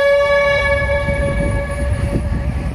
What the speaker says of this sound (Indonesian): Dan ini kereta kerja sudah membunyikan semboyannya.